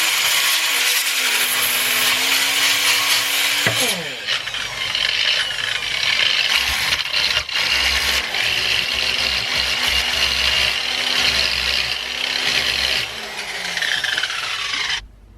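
A belt sander whirs continuously with a raspy grinding hiss as a metal hammer face is pressed against it for polishing, pitch dipping briefly as the load changes.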